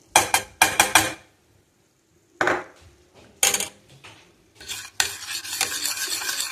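A utensil scrapes and stirs honey and baking soda in a pot in short bursts separated by pauses, ending in continuous stirring with a faint sizzle as the mixture reacts.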